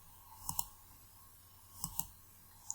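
Sharp computer mouse clicks on an Ubuntu desktop: two quick click pairs about a second apart, then one lone click near the end, close and crisp over a quiet background hum.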